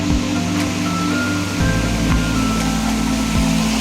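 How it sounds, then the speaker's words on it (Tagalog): Loud, constant rushing roar of a waterfall on a rocky stream in Tanay, Rizal, heard up close with broadband noise and no talking. "Waterfall."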